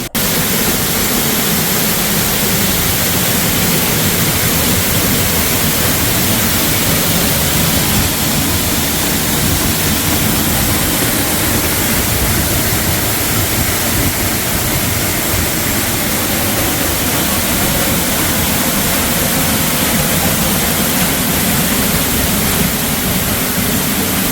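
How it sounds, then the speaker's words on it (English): A waterfall roars continuously, a loud unbroken wash of rushing water that never changes for the whole stretch. "let's just sit and listen to the waterfall"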